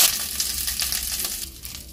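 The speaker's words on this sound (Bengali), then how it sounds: "চিংড়ি মাছগুলো ভাজা হয়ে গেছে, বেশি ভাজবো না" Prawns frying in mustard oil in a pan, a brief dense sizzle with small crackles heard close and alone.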